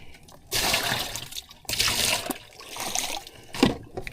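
Sea water is poured over squid in bursts, three or four splashing gushes separated by short pauses, close and moderately loud, with no talk.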